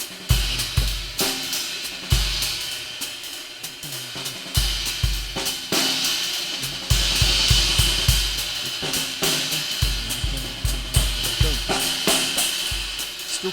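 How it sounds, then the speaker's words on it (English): A 22-inch sand ride cymbal with three rivets is struck in a repeated rhythmic pattern, its sizzling rivet wash ringing over low drum hits in a live band setting. "Now, that's a 22-inch sand ride with 3 rivets in it."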